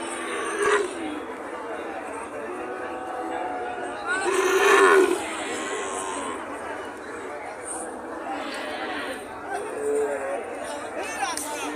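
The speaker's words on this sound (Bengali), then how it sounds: "চলুন আজ এই হাট ঘুরে দেখবো এবং এই হাটে কী ধরনের বাছুর উঠছে সেগুলো দাম জানার চেষ্টা করব" Sahiwal bull calves at a livestock market in Joypurhat, with a few loud moos rising over steady crowd chatter and people talking nearby.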